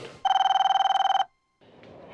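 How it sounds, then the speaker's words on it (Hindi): A telephone rings with one rapid trilling electronic burst of about a second, followed by a short silence and then faint background sound. "शायद मोबाइल फोन कंपनी वाले का फोन है।"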